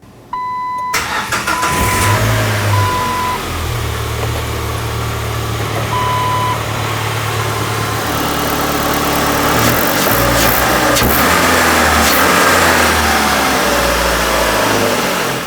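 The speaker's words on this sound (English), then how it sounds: "Now let's start up the engine, make sure everything is running as it should, and we'll wait for it to warm up to bleed the system." A 1997-2006 Jeep Wrangler 2.4L four-cylinder engine cranks, catches and settles into a steady idle after timing belt and water pump work, running loud and close with no talking.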